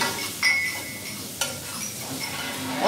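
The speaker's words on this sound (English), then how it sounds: "we're going to put the bacon into the pan, and we're going to get that going" Bacon sizzles in a pan while Cajun gumbo is being cooked: a soft, steady frying hiss with a few faint clinks of a utensil against the pan.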